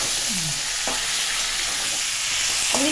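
Fish frying in hot oil in a pan, a dense continuous sizzle with a few spoon or spatula scrapes, close and loud, with no talking.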